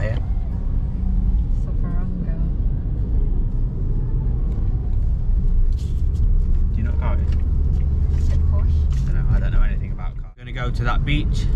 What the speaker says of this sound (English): Porsche. And a nice car here.